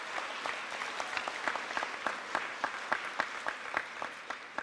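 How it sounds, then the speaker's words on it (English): Audience clapping steadily at an 8th grade recognition ceremony in honor of middle school faculty, a dense, moderately distant round of applause from a crowd that holds throughout. "Give them a round of applause."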